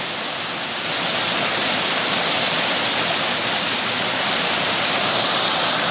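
River water flowing steadily through limestone hills in South Gombong, a dense continuous rushing wash like a nearby stream or small cascade, loud and unbroken with no voices.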